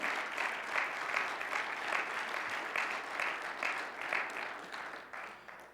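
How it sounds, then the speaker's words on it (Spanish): A church congregation claps together in steady, sustained applause, a dense wash of many hands heard close and even throughout, with no voices over it. "Dale un aplauso al Señor."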